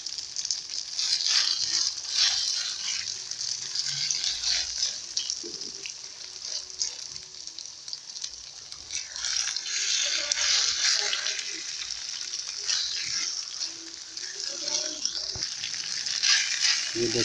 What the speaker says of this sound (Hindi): इसको हमें अच्छी तरह फ्राई करना जब तक ये थोड़ा गोल्डन ना हो।